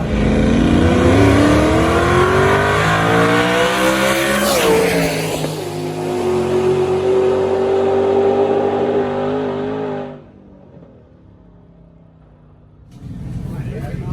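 Loud race car engine in a roll race pass, revving hard with rising pitch through gear changes for about ten seconds, then cutting abruptly to near quiet before a low rumble returns.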